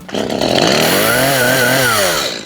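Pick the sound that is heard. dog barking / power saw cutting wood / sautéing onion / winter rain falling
power saw cutting wood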